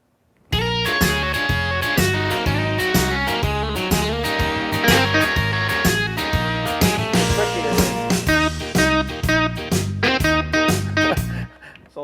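A Yamaha Genos2 arranger keyboard plays a blues song in C, with a steady full band accompaniment of bass, drums and chords under lead lines, loud and continuous, and no talking.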